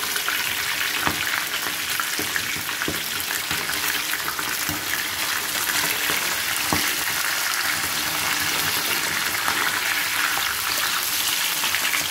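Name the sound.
katla fish frying in mustard oil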